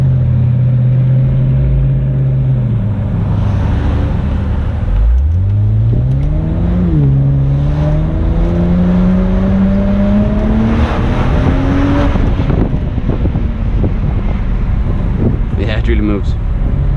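A 2008 BMW 135i E82 convertible accelerating hard from inside the cabin, engine note rising through the gears with audible shifts, loud and continuous, with a voice speaking over it.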